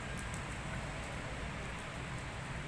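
Heavy downpour, the first rain after a long dry season in Bondowoso, a dense steady hiss filling the whole stretch with no breaks and no voices.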